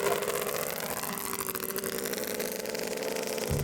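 Two-stroke go kart engine, a fast 100+ mph machine, buzzing at high revs in a steady, loud, continuous whine with no talk.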